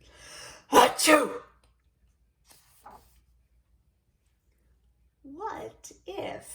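A voice lets out a sharp, loud sneeze, followed by quiet gaps and a brief faint sound, then some speech near the end.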